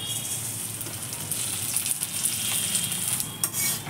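Marinated chicken hits hot oil in a pan, a bright steady sizzle with crackling spatters and a short burst of frying noise near the end.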